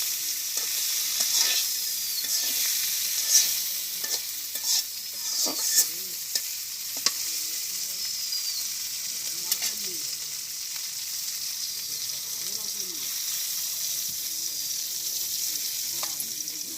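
Yardlong beans (borboti) sizzle steadily in a pan, with repeated scrapes and clinks of a utensil stirring them.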